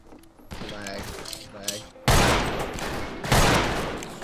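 Gunfire rings out in the Western shooter game Fistful of Frags: loud bursts of shots, with a heavy blast near the middle and another a little later, mixed with voices and game noise.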